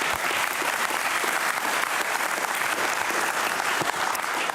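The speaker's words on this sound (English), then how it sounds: "Round of applause for Stacey." A conference audience at DevOps Amsterdam 2022 applauds a speaker named Stacey, with dense, even clapping from a sizable crowd filling the room at a steady loud level.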